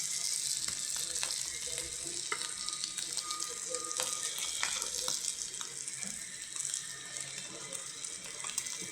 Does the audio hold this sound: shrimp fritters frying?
yes